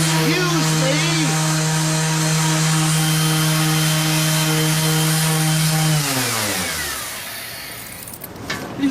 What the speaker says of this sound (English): All morning it's been nothing but banging, drilling, hammering